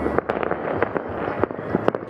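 New Year fireworks over Thessaloniki with 3,000 pyrotechnics, a dense continuous crackle and pop of bursts mixed with a broad rumbling wash, loud and steady throughout.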